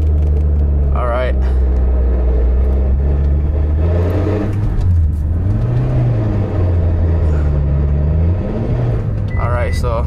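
A Mitsubishi Lancer Evo engine with a slipping clutch drones loudly and close, its pitch rising, dipping and rising again as it revs, with brief voices at the start and end.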